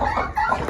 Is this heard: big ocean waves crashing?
no